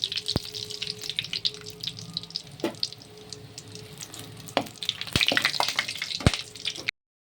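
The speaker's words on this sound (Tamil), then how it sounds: "எண்ணெயில் வந்து இந்த பாருங்க 2 இலை, கிராம்பு, சாறுப்பு இதெல்லாம் போட்டுக்கலாம்" Bay leaves and cloves fry in hot oil, sizzling and crackling steadily, with a few sharp pops and clicks scattered throughout; close and moderately loud, no talking.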